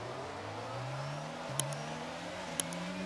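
Formula 1 cars from the F1 22 video game rev hard as the lights go out at the Austrian race start, a steady rising engine drone with two sharp clicks over it.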